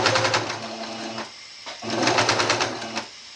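Sewing machine stitching a hem with a rolled hem foot on dress fabric, two steady whirring bursts separated by a short pause, close and loud with no talking.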